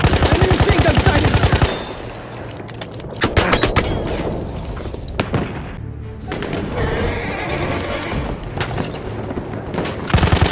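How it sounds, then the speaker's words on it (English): Rapid machine gun fire in a Battlefield 1 battle: a dense rattling burst at the start, then further bursts and scattered shots amid explosions and combat noise. "Enemy machine gun sighted!"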